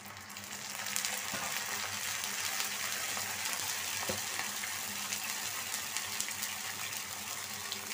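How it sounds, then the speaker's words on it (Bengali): Water goes into a hot pan of browned onion and garlic and sets off a steady, continuous sizzle and bubbling hiss close by, alone without talk. "সামান্য একটু পানি দিব আমি।"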